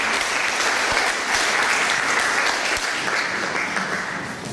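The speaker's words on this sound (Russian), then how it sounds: "Под ваши аплодисменты." Audience applauding at a book presentation for a poetry collection, a dense, steady wash of clapping from a full hall that holds loud throughout and eases slightly at the end.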